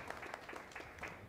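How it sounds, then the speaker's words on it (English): Audience applause for a minister at a National Development Plan address, a short, fairly quiet patter of clapping from a modest crowd lasting just over a second. "let's give another round of applause to the minister"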